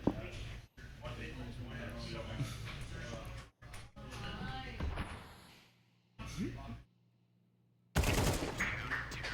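Gunfire in a Counter-Strike match on the Marketplace map ends with a headshot, with bursts of shots cracking under continuous excited commentary and a loud sharp burst at the end.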